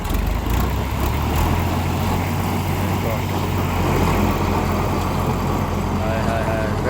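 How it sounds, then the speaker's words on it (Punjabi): A new tractor-mounted rotavator runs behind a tractor in a field, giving a loud, steady low engine drone with continuous churning noise throughout, no pauses. "ਰੂਟਰ ਹੁਣ ਲੱਗਾ ਜੇ ਚੱਲਣ"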